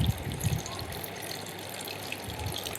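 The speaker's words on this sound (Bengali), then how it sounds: "এরপর একটু জল দিয়ে দিলাম।" Water poured into a pan of braising chicken curry with potatoes, a steady close gushing and sizzle that carries on evenly without talk.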